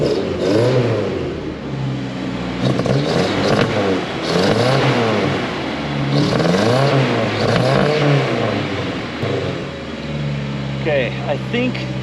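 A Toyota 4Runner engine with a suspected vacuum leak runs at a high, surging idle, its loud mid-range drone rising and falling in waves while people talk over it.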